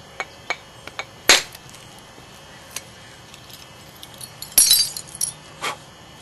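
Knapping a stone biface by percussion: two sharp clicking strikes, the second a short cluster of cracks, set among fainter ticks against a quiet background.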